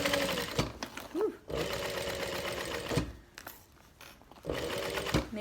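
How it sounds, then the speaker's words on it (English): A sewing machine back stitches a tote bag strap in three short close bursts, its rapid needle chatter separated by brief pauses. "double back stitch on your strap for a little extra stability"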